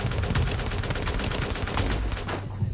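Rapid gunfire from a PS4 video game, a dense run of repeated shots at steady loud level throughout, with no talking.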